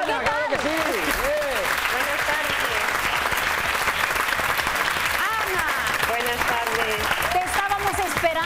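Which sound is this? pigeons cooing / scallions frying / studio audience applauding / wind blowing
studio audience applauding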